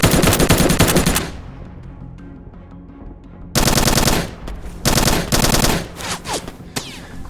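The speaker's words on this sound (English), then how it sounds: "We are pinned down by enemy fire 200 meters south of objective Cobalt." Machine gun fire in an animated military short film, loud sustained automatic bursts at the start, a lull with a fading tail, then several more heavy bursts in close succession.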